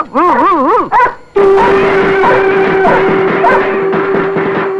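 A dog in a comedy scene gives a loud wavering howl, then yelps and barks repeatedly and close by, with a sustained tone running beneath.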